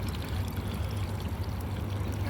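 Water diverted by hand and pouring in a steady, close rushing stream outdoors on a bike ride, continuous and fairly soft with no talk.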